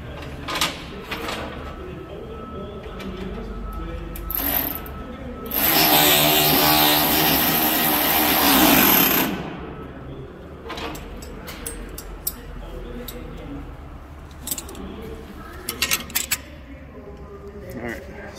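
A Ryobi 18V One+ cordless ratchet runs steadily for about four seconds, driving a nut back onto a bolt. Its buzzing motor whine stands out loud amid scattered clicks and handling noises, with someone talking before and after.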